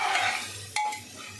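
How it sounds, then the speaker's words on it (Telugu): Ginger garlic paste frying in hot oil for a Telugu mutton curry, a steady sizzle with a sharp metallic scrape of a spoon against the pan partway through. "ఆయిల్లో బాగా ఫ్రై చేసుకోవాలి ఈ అల్లం వెల్లుల్లి పేస్ట్ని"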